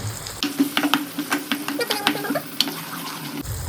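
Tomato puree tipped into a hot pan for pasta and stirred, a steady bright sizzle with scraping spoon strokes and soft clinks repeating throughout, close up, with no voices.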